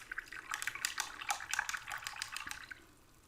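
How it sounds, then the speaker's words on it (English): A paintbrush swished and rinsed in a small water pot while painting miniature Bolt Action US Rangers, giving soft, close splashy drips and sloshes in quick irregular bursts that fade out near the end. "Clean the brush off a little bit."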